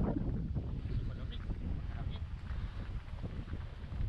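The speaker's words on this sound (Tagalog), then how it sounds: "Malakas ang hangin." Strong, cold wind buffets the microphone on a street corner, a steady low rumble that fills the whole stretch with gusty surges and no clear break.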